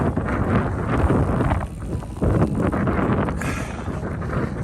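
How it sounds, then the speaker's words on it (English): Strong wind roars over the microphone in a steady, heavy rush, with a brief lull and renewed gusts, no voices; a 30 km/h headwind gusting to 50 km/h on a road cycling ride. "we have a good, consistent, steady headwind of 30 kilometers per hour with gusts of up to 50 km an hour"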